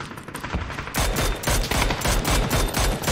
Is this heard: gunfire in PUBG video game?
yes